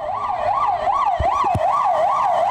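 A police car siren outside in South Africa wails steadily up and down in a regular, repeating cycle. It is loud and close, with a couple of brief low thumps partway through and no talk.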